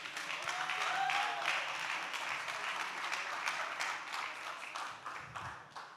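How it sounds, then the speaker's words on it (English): Keynote audience applauding, a steady dense patter of many hands clapping at moderate distance for several seconds. "give yourself a round of applause again"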